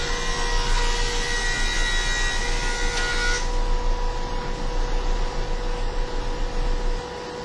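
A thickness planer with raised table rollers feeds a board through, a loud steady mechanical whir with a constant hum and a brighter cutting rasp that drops away partway as the board clears the cutter.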